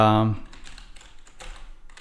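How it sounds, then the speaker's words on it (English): Typing on a computer keyboard during a software setup, a short run of light, irregular key taps following a brief burst of voice at the start. "you have to type in the login name, password"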